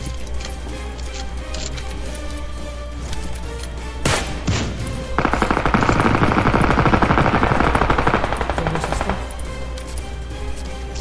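Gunfire in the battle-royale shooter PUBG Lite: a single sharp shot, then a sustained burst of rapid automatic fire lasting several seconds, loud over a steady game background, followed by scattered fainter shots.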